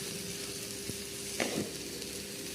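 Onions sautéing in a pan give a steady, even sizzle throughout, with a couple of brief clinks of a utensil against the pan near the middle.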